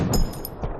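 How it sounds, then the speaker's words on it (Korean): Sniper bullets hit their targets in a film scene, two or three short, sharp impact cracks with a metallic edge, close and punchy over a low rumbling background. "총성 대신 총알이 맞는 소리만 나는 이런 사운드 에디팅"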